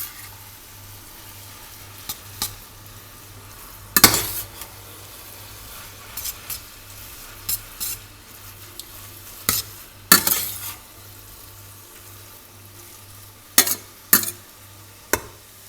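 Chicken stock powder is stirred into fried noodles in a pan. A spoon clinks and scrapes in scattered bursts over a faint sizzle and a low, steady hum.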